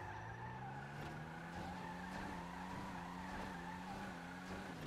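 A Pegassi Infernus Classic car in GTA 5 skids across grass, its tires scrubbing and squealing over a steady engine note, faint and continuous with no talk.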